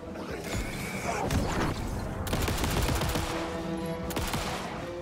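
Gunfire in the video game Alan Wake 2, with bursts of rapid shots and sharp cracks over a rumbling, mechanical background, moderately loud and continuous across the moment.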